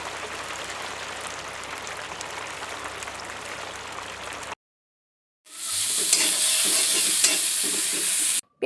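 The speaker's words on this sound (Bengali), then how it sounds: "এখন পেঁয়াজ কুচি দিয়ে দিচ্ছে" Chopped onions are stir-fried in hot oil already spiced with sugar, cardamom and cloves, producing close sizzling and stirring in two bursts separated by a second of silence, with no one speaking.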